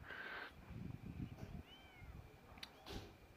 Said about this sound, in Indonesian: ini saya dari tadi dengar suara kucing nih kasihan